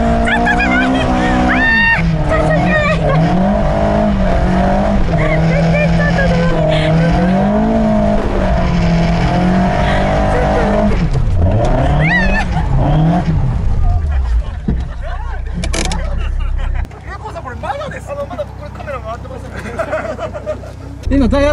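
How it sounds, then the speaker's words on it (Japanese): A drift car spins its tyres in circles on a mountain-pass course to warm them before drifting. A loud, sustained engine roar rises and falls with tyre squeal, while people talk inside the car. "じゃあちょっとタイヤ温めよう。"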